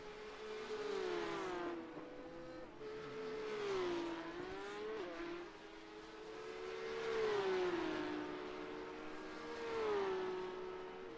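Porsche Cup race cars in a racing video game whine past on track, engine tones rising and falling in repeated sweeps as several cars pass at moderate volume.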